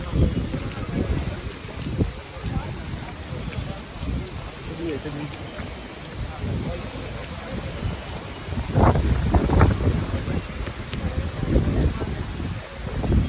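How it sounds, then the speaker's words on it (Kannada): Steady wind at the Nandi Hills viewpoint buffets the microphone with low rumbling gusts that swell louder partway through, with a voice speaking under the noise. "ಗಾಳಿ ಬೀಸ್ತಾ ಇದೆ ಹಾಗೆ"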